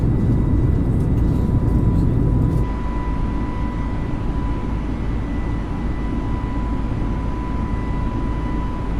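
A steady aircraft engine drone from a simulated airliner in Microsoft Flight Simulator 2020, a constant whir with a faint tone over it. A brief louder layer at the start gives way to an even hum.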